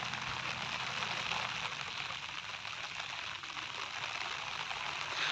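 Rain falling in a forest during a village jungle outing, a dense steady hiss of drops on leaves and ground filling the whole stretch evenly, with no voices.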